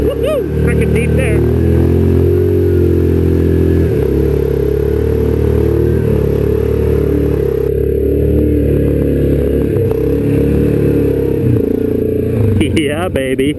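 Yamaha Kodiak and Grizzly ATVs churn through mud near Contact Bay, engines droning loud and close with steady revving and clattering, a voice talking over them throughout.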